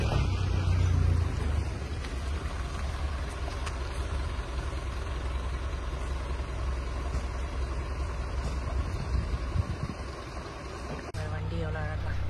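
A tea estate vehicle's engine runs at a steady low idle close by, a continuous rumble throughout, with a brief shift near the end and people talking over it.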